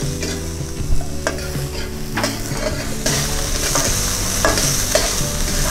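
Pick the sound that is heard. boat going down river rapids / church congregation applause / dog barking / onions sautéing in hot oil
onions sautéing in hot oil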